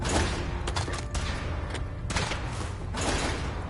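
A test suit's weapon firing, a dense rattle of repeated shots and mechanical thumps spread across the clip, loud and close, with bursts clustering near the start, middle and end.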